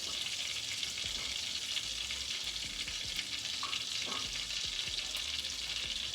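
Pieces of cod dipped in egg and flour fry in a pan with a steady, close, loud sizzle that runs unbroken throughout, with a couple of faint clinks or stirring touches partway through.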